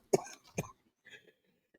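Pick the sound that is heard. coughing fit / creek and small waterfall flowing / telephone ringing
coughing fit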